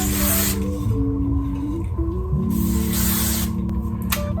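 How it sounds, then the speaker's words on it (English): Hairspray misted onto a braid in a few long, loud hissing bursts, spraying close by with brief gaps between them and no talking. "From here, I'm going to hairspray it."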